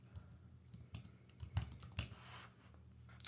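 Quick bursts of keystrokes on a computer keyboard as a cd command is typed into a terminal, a run of close, crisp clicks with short pauses between groups and no talking.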